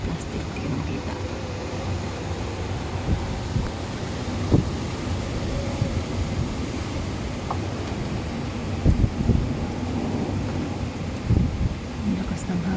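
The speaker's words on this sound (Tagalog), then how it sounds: "Ang lakas ng hangin sa taas." Strong wind gusting high up outdoors in Hong Kong under typhoon signal T10, a constant roaring rush with buffeting on the microphone and occasional louder thumps, with a voice talking faintly underneath.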